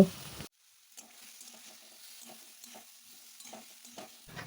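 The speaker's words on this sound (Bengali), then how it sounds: "এবার বেটে রাখা মশলাটা আমি দিয়ে দেব" Ground spice paste sizzles and fries in a pan while being stirred for a Bengali neem jhol, soft steady crackling with intermittent scraping strokes after a brief louder burst at the start.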